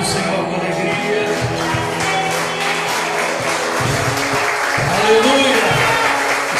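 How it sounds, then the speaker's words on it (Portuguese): A congregation claps during a Portuguese-language church service, a steady patter of applause running beneath a preacher's amplified voice, which speaks throughout and swells near the end. "Você pode aplaudir o Senhor com alegria."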